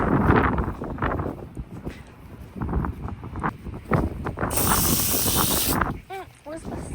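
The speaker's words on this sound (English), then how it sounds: "And I'm just gonna spray it down." A hose sprays water onto a plastic planter bucket with holes in the bottom out in a yard, making a steady bright hiss for over a second. Wind noise and a voice are heard around it.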